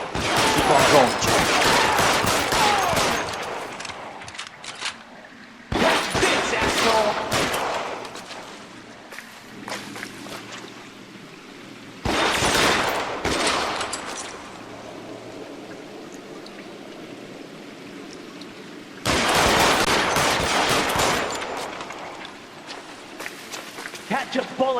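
Gunfire from a shootout in the 1940s Los Angeles crime game L.A. Noire, loud sustained bursts of rapid shots in four separate volleys, with quieter gaps between them and voices speaking over the action.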